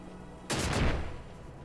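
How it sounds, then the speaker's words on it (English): A burst from an explosion trap in Final Fantasy 12 booms up suddenly after a quiet lead-in, then rumbles and fades slowly with deep low-end weight, loud and alone. "An explosion trap."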